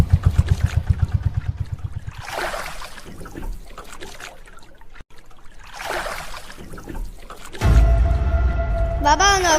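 A boat moving on water, with rhythmic paddle or engine knocking at first, then splashing and watery sloshing swells, and a louder steady mechanical drone toward the end.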